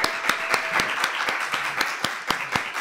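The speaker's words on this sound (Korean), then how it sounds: "하나님께 영광의 박수" Applause from a church congregation celebrating the launch of a youth praise team at Dobong Church, steady clapping with regular sharp accents, moderately loud and close, with no talk over it.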